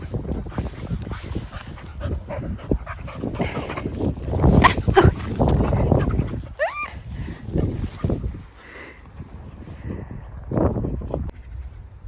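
A dog barks and whimpers several times at close range, in bursts over steady background noise, with a brief high whine midway.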